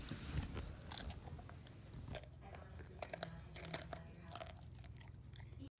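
A Bernese mountain dog crunches through a salty puffed cheese chew, with repeated close biting and crackly chewing that runs steadily throughout, under faint background voices.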